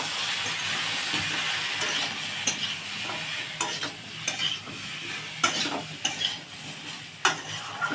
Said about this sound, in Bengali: আমি এবার মশলাটা নাড়বো।